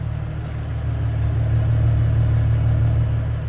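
A 2009 Ford Mustang engine idles steadily with a deep, low rumble, holding a constant throaty drone throughout with no voices.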